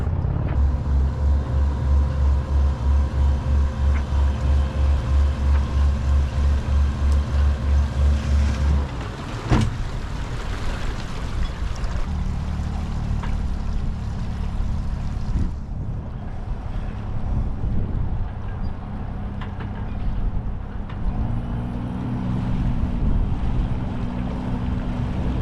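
New Suzuki outboard motor on a cheap catamaran running steadily, with a pulsing hum under wind and water noise that continues for the whole stretch, no voices.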